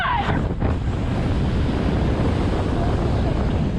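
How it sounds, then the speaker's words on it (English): Strong wind roaring and buffeting the microphone in a constant heavy rush on the Orlando StarFlyer swing ride, with a brief voice fragment at the start. "Wow, it's really windy."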